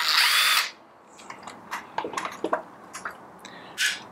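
A power drill spins out two Phillips screws holding a conical coffee grinder's circuit board, a short loud whir followed by small clicks and rattles as the parts come loose, then another brief burst of the drill.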